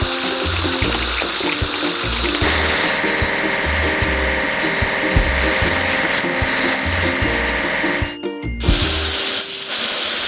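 Water sprays in a kids' truck car wash game, a continuous hiss over a looping, bouncy game tune with thumping beats, ending in a brief splashy burst.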